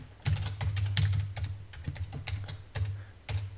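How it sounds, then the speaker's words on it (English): A password is typed on a computer keyboard in a run of quick, close, light key clicks in short uneven bursts, with no talking. "I'm going to type that in."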